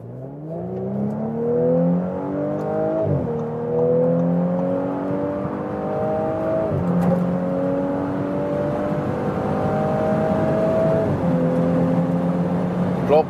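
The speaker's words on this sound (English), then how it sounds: "And now as comparison, the Audi 6-cylinder petrol." Audi S5 convertible with a 3-liter six-cylinder petrol engine accelerating hard through the gears, the engine note climbing steadily, then dropping briefly at each of several upshifts, loud and continuous from inside the car.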